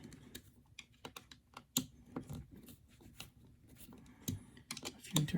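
Small screws being hand-tightened into a Tamiya TT-02 Type SR RC car chassis during motor installation: a run of close, light clicks and taps at an uneven pace, fairly quiet, with no one speaking.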